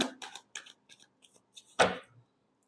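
Tarot cards being shuffled make short, close papery slaps and riffles, a handful of quick bursts ending in one louder final flutter.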